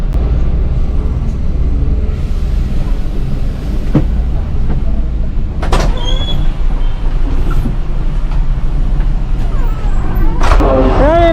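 Sembodo coach bus rolling in slow, congested traffic into Kalideres terminal in Jakarta, with a continuous low engine rumble, interior rattles and occasional sharp clanks and squeaks nearby.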